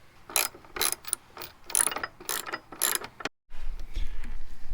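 A ratchet wrench tightens 13 mm running board bracket bolts on a second-generation Toyota Tundra. Repeated close, rapid clicking strokes come in bursts, followed by a brief pause and a duller rustling of handling.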